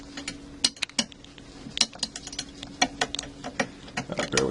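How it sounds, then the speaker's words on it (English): Plastic bulb socket piece pushed and twisted back into a BMW E36 light housing, giving a string of small close clicks and scrapes in an uneven rhythm over a low steady hum. "Getting the socket piece back in is a little difficult."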